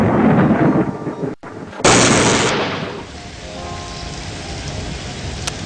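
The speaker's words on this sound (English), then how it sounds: "Quite a severe storm, for all intents and purposes, really." Heavy rain and a sharp, loud thunderclap from a severe storm in a Discworld video game, with lightning crashing in near and the downpour hissing on steadily afterward as the blast fades.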